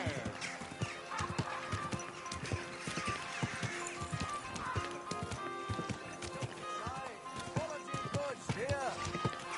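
A horse in a medieval video game clip-clops steadily along at a run and whinnies several times, while someone talks over the hoofbeats and game sounds.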